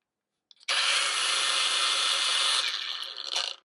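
A VerveWave WT8841 cordless band file sander runs close and loud with a steady, harsh whirring drone for about three seconds before trailing off, with no talking.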